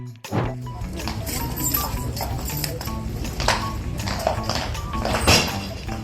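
Hooves clop and thud irregularly on a hard surface, a King's Guard horse slipping and scrambling amid crowd noise and background chatter.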